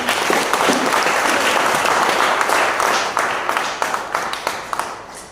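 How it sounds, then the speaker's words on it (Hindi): Loud, dense applause from a large audience honoring the CMD at a health gathering, steady for about three seconds and then thinning into scattered claps as it fades. "हमारे सीएमडी के लिए एक जोरदार ताली हो जानी चाहिए"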